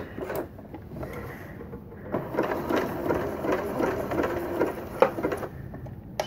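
A computerised electronic sewing machine runs a quick lock-stitch button-sewing cycle, a short mechanical chattering burst with clicks, close and moderately loud.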